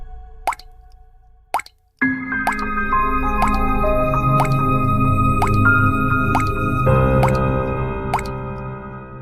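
Cartoon sound effects of stones dropped one by one into a water pot: a series of bright, evenly spaced plops and drips over a sustained watery, resonant ringing tone that swells as the pot fills.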